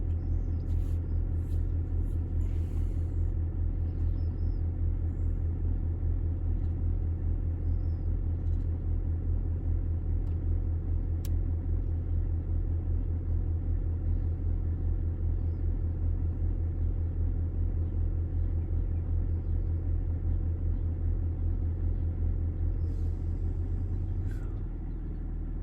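A Range Rover L322's air suspension compressor runs close by with a continuous, even, loud mechanical drone and rumble, steady for about 24 seconds before easing slightly near the end.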